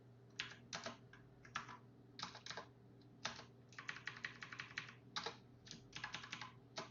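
Typing code on a computer keyboard while programming in Python: bursts of quick key clicks in short runs and longer rapid flurries, close and fairly quiet, with no talk.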